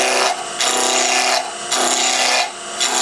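A lathe gouge cuts wood while turning a wine stopper, a loud close rasping scrape that swells and eases in repeated passes of about a second each, with no talk.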